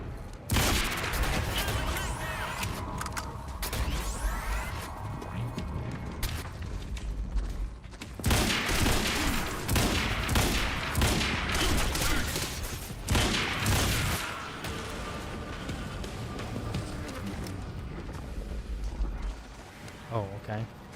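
Carbine gunfire in the video game Quantum Break, dense bursts of loud shots and booming impacts packed across the whole stretch, with short lulls around the middle and near the end, mixed with game effects and occasional speech.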